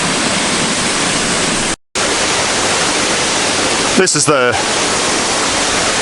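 A waterfall in Far North Queensland, seen from a boardwalk, pours with a loud, steady rushing hiss. The sound cuts out once for a moment, and a voice speaks briefly over it.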